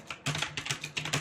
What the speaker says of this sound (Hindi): इंटर दबा दें